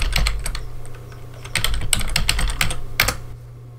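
Rapid clicking keystrokes on a computer keyboard as a terminal command is typed, close and crisp, in uneven bursts with brief gaps.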